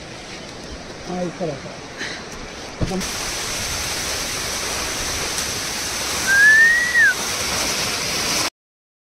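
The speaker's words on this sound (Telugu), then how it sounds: "ఇక్కడ నుండి నేను మీకు ఇంకొకటి కూడా చూపిస్తా, వాటర్ ఫాల్" A waterfall near Muktinath, Nepal, sets in abruptly as a steady, close broadband roar after faint muffled sounds, with a brief rising-and-falling whistle-like tone over it near the end before it cuts off.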